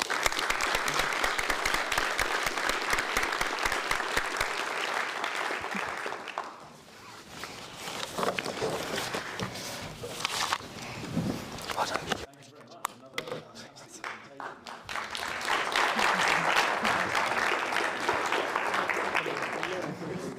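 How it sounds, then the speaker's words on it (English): An audience at a public speaking grand final claps loudly, quiets into scattered claps and sounds, then swells into strong sustained applause again. "I think we all know he deserves one final round of applause."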